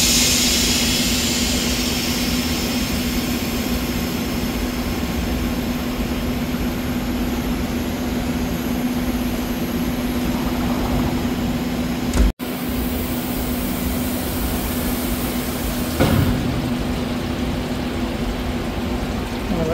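A parts wash tank runs with a steady, loud motor hum while a Gen1 Audi R8 oil pan is washed out, broken by a single sharp thump midway and a brief splash later.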